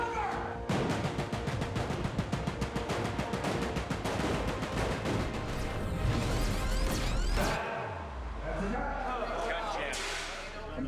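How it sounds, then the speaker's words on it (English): Film-set pyrotechnics for Oblivion (2013), with mortar blasts and propane poppers going off in a dense, rapid string of loud, sharp bangs that end in a deep booming rumble and settling debris. "The events here are, the explosions is 1 through 15."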